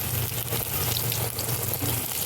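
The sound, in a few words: bitter gourd pakoras frying in hot oil in a wok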